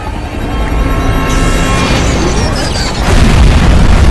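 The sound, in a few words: explosion in Skibidi Toilet animation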